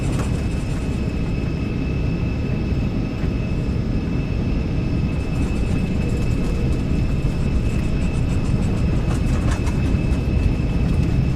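Engines of one of the largest business jets during the takeoff roll, a steady loud roar with a faint whine on top, sustained and close from inside the aircraft with no talking.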